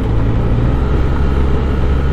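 A motorcycle engine on the road during a rev-matched downshift from third to second gear, a loud, steady, close rumble filling the brief moment with no talking.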